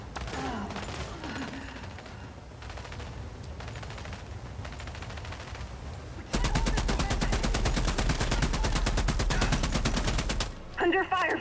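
Gunfire in The Expanse: Osiris Reborn video game, sporadic shots during combat that give way to a loud, rapid, sustained automatic burst lasting several seconds, with game ambience underneath.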